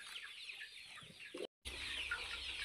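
Native chickens in a poultry farm shed cluck and chatter in a continuous, fairly close stream, broken by a brief silent gap near the middle.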